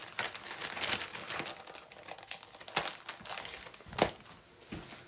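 Fabric pieces, including vintage prints and a batik, in plastic packaging crinkle and rustle close by, a run of irregular sharp crackles and soft scrunches with no talk.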